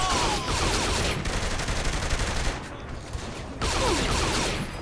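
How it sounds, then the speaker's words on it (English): Sniper rifle fire in the video game Saints Row 3 makes loud, dense bursts of gunfire, with a brief lull in the middle before the blasts return. "Sniper rifle's practically a shotgun."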